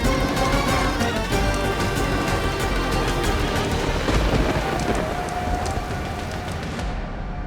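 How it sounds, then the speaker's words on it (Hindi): Heavy rain pours steadily at night under a clouded sky while thunder rumbles, a dense, continuous roar of falling water that fades slightly toward the end. "अब ये बरसात नहीं थमने वाली"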